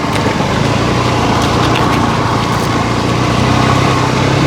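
A motorcycle engine drones steadily and loudly throughout while riding along a dense forest route through hilly country near Bijapur, a constant mid-pitched hum with no clear gaps.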